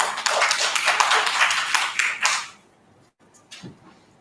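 An audience at a community dialogue session claps briefly and fairly loudly for a couple of seconds, then the applause cuts off into near quiet with a faint tap or two.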